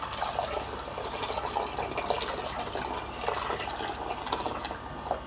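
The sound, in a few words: pouring boiling water into a pot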